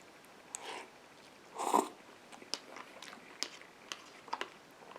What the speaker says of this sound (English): watching me slurp down a pot noodle